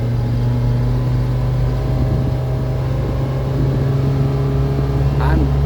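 A 2024 Kawasaki Ridge side-by-side engine pulls at half throttle, a loud steady drone with strong low hum that rises slightly toward the end.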